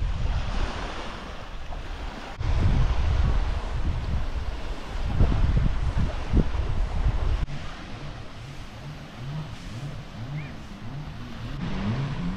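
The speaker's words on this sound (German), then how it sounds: "Das ist genau der Strand, den ich mir vorstelle, im Paradies zu sein." Waves on a quiet, remote beach at Koh Larn, Thailand, a broad rushing wash that swells and falls in several surges, mixed with wind buffeting the microphone.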